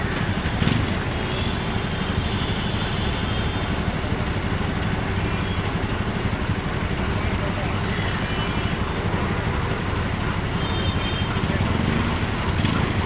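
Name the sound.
vehicles idling in Bangalore traffic jam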